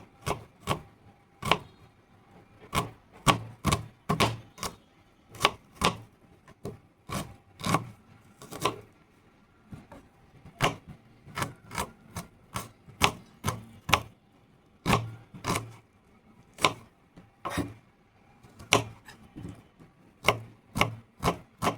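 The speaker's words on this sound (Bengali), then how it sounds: "এখন কাটবো হচ্ছে পেঁয়াজ টমেটো" Onions and tomatoes chopped with a knife on a board, sharp taps in uneven bursts with short pauses, close and fairly quiet.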